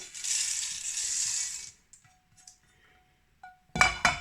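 A dry, rushing hiss of small egusi seeds pouring into a bowl, then a pause and a few bright clinks as the bowl is handled.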